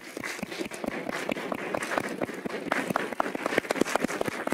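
A church congregation claps steadily, a dense roomful of hands producing a continuous, fairly even patter of applause with no voices over it.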